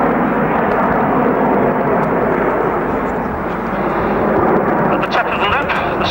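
The Red Arrows, the RAF aerobatic team, fly over an air show at RAF Finningley, making a loud, sustained jet roar that fills the clip, with a public-address voice faintly beneath it.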